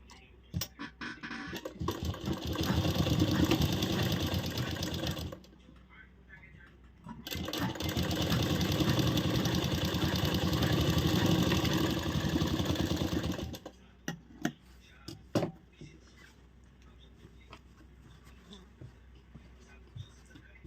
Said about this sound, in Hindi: इस पे भी हम सिलाई लगा लेते हैं